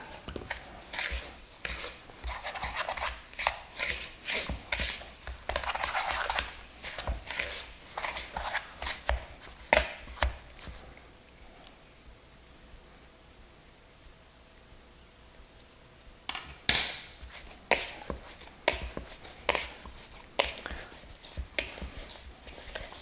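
Whole wheat croissant dough is kneaded by hand on a work surface, giving soft repeated rubbing and slapping strokes with a pause in the middle, fairly quiet and close.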